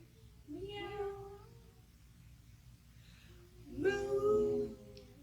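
Two voices imitate a cat's meow during a family yoga session, a short drawn-out meow followed after a pause by a longer, louder one, over a low steady background hum.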